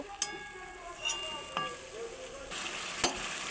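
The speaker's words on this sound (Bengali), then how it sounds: "এবার সুন্দরভাবে সব একসাথে মশলাটা কষে নেব" Spices and grated ginger sautéed together with potatoes in a pan, a faint, soft sizzle broken by a few sharp scraping and clinking stirs.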